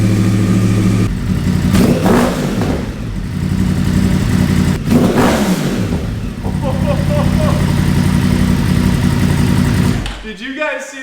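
A 2014 Yamaha R1 sport bike engine, rebuilt after a wreck, fires up close and loud, idles, then revs hard in two big sweeping bursts before settling and shutting off; voices can be heard faintly underneath.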